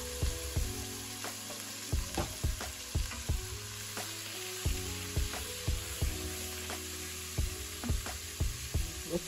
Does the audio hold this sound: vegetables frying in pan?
yes